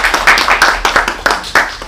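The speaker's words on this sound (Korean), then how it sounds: "큰 박수 부탁드립니다." Scattered, fairly close hand claps from a small group of attendees at an education administration forum, landing in an uneven rhythmic series of sharp bursts after a panel Q&A.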